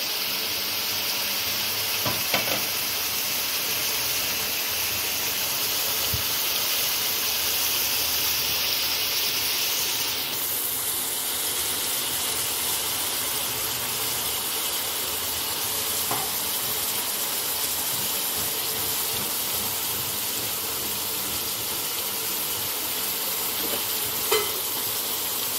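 Aubergine pieces frying in oil in a pan give a continuous loud hiss that shifts in tone partway through, with light occasional clinks and no voices.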